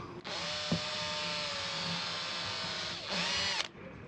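Small electric drill boring a 3 mm hole on an old abandoned sailboat, a steady high-pitched whine held for about three seconds, with a brief pitch change as the bit bites before stopping.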